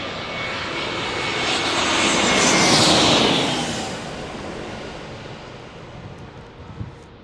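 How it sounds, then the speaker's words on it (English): A JetBlue Airbus A321 in Paisley livery roars past on its landing approach at San Diego, the jet engine noise swelling to a loud peak midway and then fading, with no voices over it. "there's the JetBlue A321 Paisley livery"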